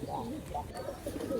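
Pigeons coo repeatedly in wavering, rising-and-falling calls at a farm loft, close and moderately loud over a steady background murmur.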